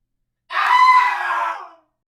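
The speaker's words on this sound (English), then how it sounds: "We begin to scream and run." A single long, loud scream rises sharply, holds for over a second, then fades, standing alone against silence in a cartoon train story.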